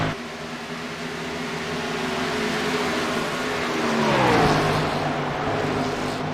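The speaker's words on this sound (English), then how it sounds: "We hear that glorious V8 engine singing out a fantastic sound on these cars" A V8 NASCAR stock car engine in the iRacing simulator, running at the Texas track, drones steadily at high revs with a distinct pitch drop and shift partway through, loud and continuous.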